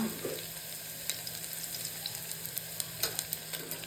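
Steady sizzling of mutton frying in a pan, with scattered small crackles and pops throughout, fairly quiet and close.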